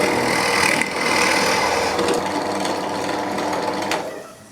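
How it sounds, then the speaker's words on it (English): A drill bores a hole into a block of wood for doweling, giving a steady loud grinding whir that holds for about four seconds before winding down, close up and without talk. "If you haven't got a drill press table, just try and drill it as accurately as you can."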